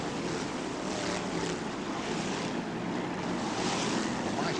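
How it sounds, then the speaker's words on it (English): Powerful F1 stock car engines thunder past during the 1982 European Championship Final at Northampton Stadium, a loud, continuous, close-up roar that swells and surges without a break, with no voices. "The mighty roar of these really powerful engines as they come thundering through, shakes the commentator's box in front of us"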